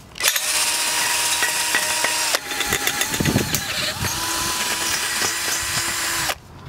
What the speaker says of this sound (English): Okay, it's all drilled out.